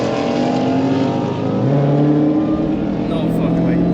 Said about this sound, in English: a Camaro versus supercharged Mustang